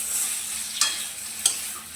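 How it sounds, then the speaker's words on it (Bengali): Boiled cauliflower pieces fry in a pan for a chili cauliflower dish, with a steady hiss of sizzling oil and two sharp stirring scrapes close by. "ফুলকপিগুলো ভালো করে ভেজে নেবো লাল লাল করে"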